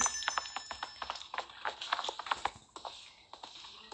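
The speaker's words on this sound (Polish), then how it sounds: "Koń." A horse's hooves clip-clop in a steady, brisk rhythm on a hard surface, each strike sharp and fairly close, with a faint ringing tone in the background.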